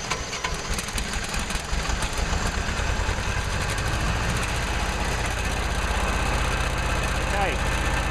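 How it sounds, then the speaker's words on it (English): Glow-plug engine under Arduino control running after cranking on its starter motor, a steady loud close rumble with fast rhythmic firing throughout, filling the whole stretch without voices. "It's now cycling through the glow plug, soon to go to starter motor."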